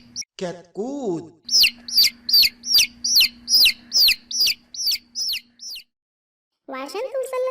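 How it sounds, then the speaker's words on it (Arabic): A chick chirps in a rapid series of high, sharp peeps with a steady rhythm, close and loud, bracketed by brief lower calls at the start and a short burst of sound at the end. "كتكوت."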